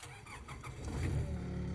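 An excavator's diesel engine cranks and fires up after a glow plug preheat, turning over with uneven chugs before settling into a steady, close, low rumble.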